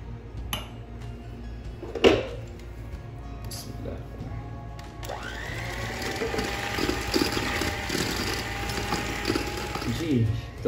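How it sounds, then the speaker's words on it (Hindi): Four eggs being blended into chocolate marble cake batter with an electric blender, starting with a few clunks and clicks, then a continuous whirring motor hum with a sloshing texture. "अब हम 4 अंडे इसमें डाल देंगे और इसको डाल के फिर हम ब्लेंड करेंगे।"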